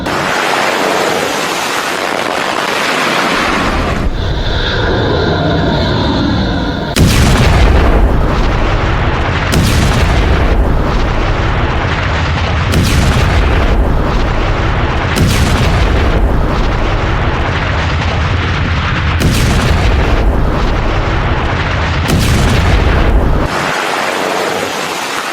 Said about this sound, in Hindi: दूसरी तरफ देखिए जरा, ईरान ने भी मिसाइल लॉन्च की है।